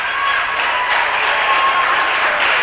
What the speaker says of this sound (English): So Nassau bringing the crowd to their feet here.